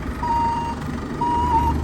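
A vehicle's reversing alarm sounds two long, steady beeps, loud and close, with a low engine rumble underneath.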